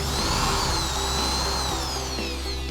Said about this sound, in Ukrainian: крихітним свердлом просвердлюємо ось тут отвір